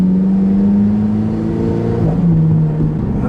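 A 2015 Alfa Romeo 4C engine pulls hard as the car drives, with a strong, steady droning note climbing in pitch before easing back slightly, loud and close with no voices.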